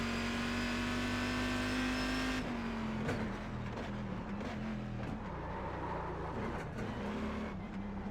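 A GT race car in the iRacing simulator at The Bullring drives steadily with a loud sustained engine drone that dips and shifts pitch as it lifts off and brakes, with faint tire noise underneath.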